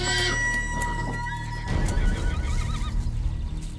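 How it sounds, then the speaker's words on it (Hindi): Several horses neigh loudly at the start, a shrill whinny followed by further calls, then a burst of snorting and shuffling hoof noise close by. "क्या रे, यहाँ इतने सारे घोड़े क्यों हैं?"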